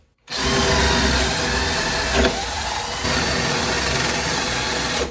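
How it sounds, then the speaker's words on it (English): A power drill with a bit whines loudly and steadily, grinding through taxidermy foam with a brief dip in pitch partway through, no talking. "use this drill bit to cut it, cut the foam out of there"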